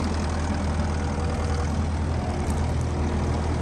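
A Case SV175 skid steer engine running at idle and unable to rev up past idle, a loud, steady, rough diesel rumble that continues without a break, close by, with no speech.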